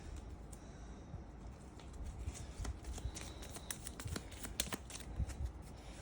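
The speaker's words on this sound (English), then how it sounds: "So we'll go ahead and shuffle the deck." A deck of cards for the Game of Thrones board game is shuffled, giving quiet, soft riffling and flicking textures with a few sharper snaps, close and faint, with no talking.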